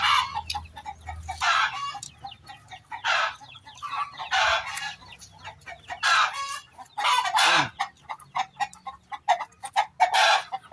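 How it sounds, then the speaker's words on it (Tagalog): Chickens cluck and squawk in repeated bursts, close by, with a rooster-like call mixed in, continuous over the whole stretch. "Yung manok."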